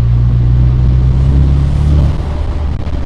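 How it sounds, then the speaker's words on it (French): A Morgan Plus Four engine while driving on country roads, a deep, steady low rumble heard from inside, loud and continuous with a slight easing of revs near the end. "c'est un plaisir de se balader sur ces routes de campagne au volant de cette Morgane plus fort, extrêmement coupleuse, la sonorité très agréable"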